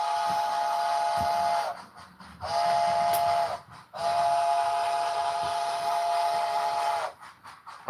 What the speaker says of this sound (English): I think 5 chimes are my favorite type of whistles.